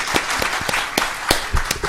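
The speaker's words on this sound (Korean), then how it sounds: "여러분 큰 박수로 맞이해 주시기 바랍니다" Scattered hand claps from an audience welcoming arriving lawmakers at a Korean lecture event, sharp individual claps standing out over a light, thin bed of applause.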